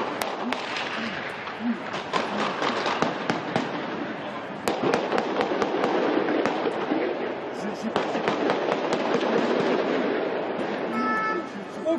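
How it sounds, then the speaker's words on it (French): Rapid sharp gunshots crack in quick irregular bursts during a police assault on a hostage-taking at Vincennes, over a noisy, crowded background, with a voice talking underneath. "Tout de suite, les premiers coups de feu."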